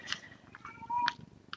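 A cat perched on a banister indoors gives a few short, sharp meows in quick succession, close by and fairly quiet, with faint room noise between calls.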